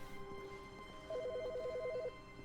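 In The Stanley Parable, a telephone rings with a short electronic warbling trill, a rapid alternating two-tone burst lasting about a second over a faint, quiet room hum.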